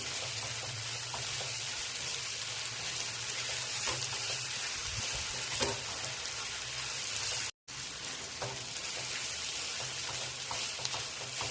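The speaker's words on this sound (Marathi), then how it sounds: "आपल्याला एखादा मिनटं परतून घ्यायचं आहे टॅमॅटो चांगला मऊ होईपर्यंत आपल्याला हे परतून घ्यायचं आहे" Tomatoes sautéed in a pan for masala pav give a steady, close sizzle with faint stirring scrapes, cut by a brief silent gap partway through.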